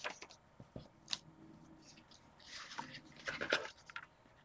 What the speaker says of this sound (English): So I'm just going to trim off a piece.